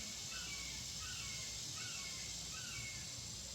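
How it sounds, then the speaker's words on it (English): A red-shouldered hawk calls outside in a yard on a sunny summer morning, a series of faint, distant repeated cries over steady background hiss. "that's the hawk out there making noise this morning"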